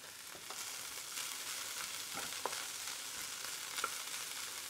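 Hot oil sizzles steadily and quietly in a pan over a high flame, a continuous crackling hiss with a few small pops, no voices.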